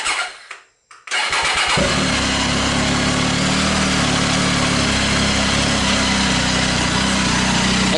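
A 2019 Triumph Tiger 800 XRT fitted with a Fuel Diablo carbon muffler, baffle in, fires up after a brief crank and settles into a steady, loud, close idle with no talking.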